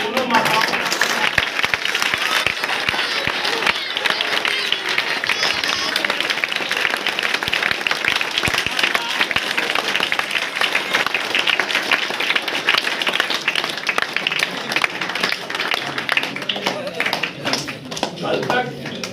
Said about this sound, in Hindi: इसी तरह से तालियां रुकनी नहीं चाहिए दोनों माताओं